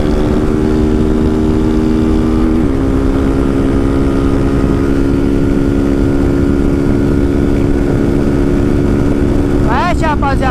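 Honda Start 160 motorcycle fitted with a sport exhaust and no air filter, its engine holding a loud, steady drone throughout with a brief rev change early on and a sharper burst near the end.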